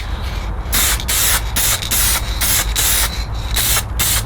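Repeated bursts of aerosol lacquer sprayed onto a carbon fibre drift spoiler, about eight short hissing blasts in an even rhythm, loud and close with brief pauses between them.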